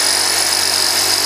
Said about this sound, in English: we are able to make a hole on this piece of brick, which is pretty deep